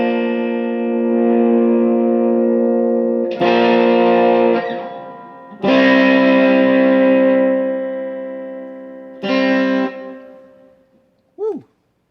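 A Harley Benton ST 62 electric guitar played through a boost, loud sustained chords ringing in several bursts with heavy saturation and reverb, ending in a short bent note.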